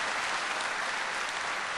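Church congregation applauding, a dense, steady burst of clapping filling the room for under two seconds.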